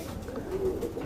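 Racing pigeon cooing softly after returning home to its loft, a brief low, murmuring coo close by and faint.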